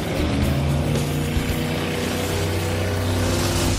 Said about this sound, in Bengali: ও, ওরা তো জলের মধ্যেই ড্রিফট করছে, পুরো ডোনাটের মতো লাগছে।